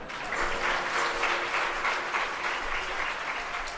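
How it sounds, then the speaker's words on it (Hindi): An audience at a spiritual discourse gathering breaks into steady, dense applause that holds at an even level throughout, with no talking over it. "एक बार हल्दीराम के लिए ताली बजा दो"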